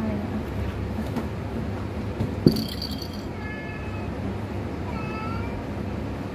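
A cat meows in a home, a few short, fairly clear calls over a steady low background hum with a brief rattle, and someone speaks quietly at times.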